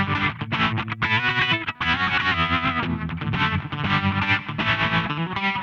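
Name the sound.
simple reverb effect from SSL Module 8 on guitar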